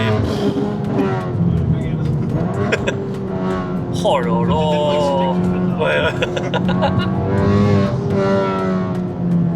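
Honda Civic Type R FK8 engine revving and pulling hard while driving, a loud, steady turbo four-cylinder drone with shifting pitch inside the cabin, heard under excited French talk from the occupants.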